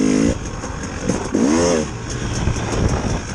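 A KTM dirt bike, either a 2019 300 EXC TPI or a 2016 350 EXC F, revs close by in a field, with short rising bursts of throttle over a rough idle.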